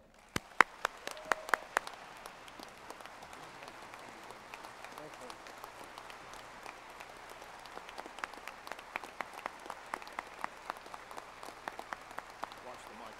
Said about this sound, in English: Please give a great VCU round of applause